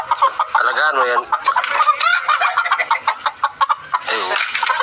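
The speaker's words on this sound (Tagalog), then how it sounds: "Bibigyan siya ng manok." A chicken is being handed over, and loud, close fowl calls come in bursts of clucking and gobble-like warbling mixed with other rapid chatter for the whole stretch.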